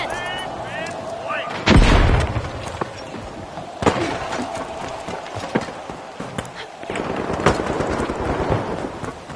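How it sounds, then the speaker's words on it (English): A frag grenade goes off in an MLB The Show game, giving one loud booming blast near the start, followed by rumbling and scattered thuds under crowd-like game noise. "Frag grenade set!"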